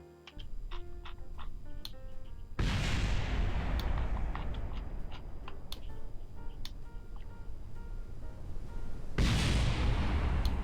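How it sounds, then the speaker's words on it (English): A rocket explodes in the Kerbal Space Program video game: a loud, sudden broadband blast bursts out amid ticking game sounds, and a second burst follows several seconds later. "Oh, that was a nice explosion."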